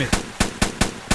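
Single gunshots from the shooter game Hold Your Own, five sharp cracks at roughly regular intervals a bit over a quarter second apart, loud and close with no talking.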